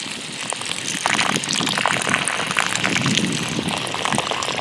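Water from a hose gushes and splashes onto sand and soil, a close, steady rushing that swells slightly after the first second.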